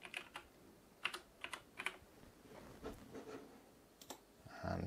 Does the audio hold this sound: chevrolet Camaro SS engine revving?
no